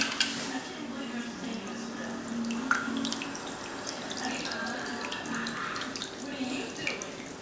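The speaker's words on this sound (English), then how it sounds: "Yeah, I'll pour it over the pork loin." Marinade pours over a pork loin in a home kitchen, a soft continuous liquid splash and trickle that runs steadily for several seconds, fairly quiet and close, with no talking.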